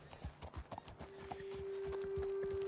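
Horse hooves clip-clopping in Red Dead Redemption 2, a handful of distinct close hoofbeats in an uneven walking rhythm, giving way to a sustained tonal hum and ambient background as the steps stop.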